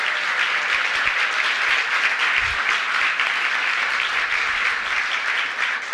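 A large crowd at an Emancipation Day breakfast gives a big round of applause, a broad, continuous wash of many hands clapping that stays steady and full for the whole stretch.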